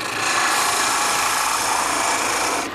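Roughing gouge cutting a spindle of wood on a lathe while turning a reamer body, a steady, continuous scraping rasp that holds at even loudness for a few seconds, then stops abruptly.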